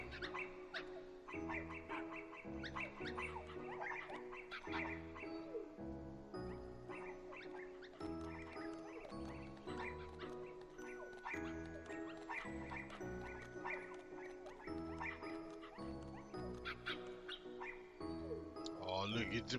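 Cartoonish puppies bark and yip in a Kingdom Hearts scene, scattered short barks mixed with chirpy sound effects over busy, continuous game music with voices.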